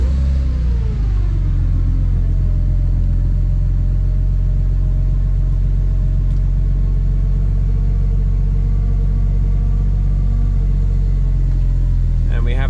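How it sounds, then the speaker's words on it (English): BMW N54 single-turbo engine cranks and catches, then settles into a steady, loud low idle rumble that runs throughout, with a brief rise near the end. "So we'll start the car up."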